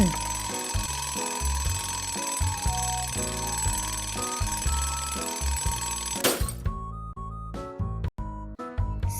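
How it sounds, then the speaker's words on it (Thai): An alarm clock rings in a rapid, repeating electronic pattern over a bouncy musical backing, then stops, leaving a few scattered knocks. "เสียงนาฬิกาปลุก เปิดเพื่อปลุกให้ทุกคนตื่น"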